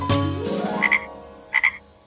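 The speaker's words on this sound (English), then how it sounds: "3 frogs jumping up and down, 3 frogs I can count." Cartoon frog croaks, a few short bright calls in two quick pairs over a sustained musical backing, fairly close and clear with no talking.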